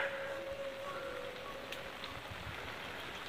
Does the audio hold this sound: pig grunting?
no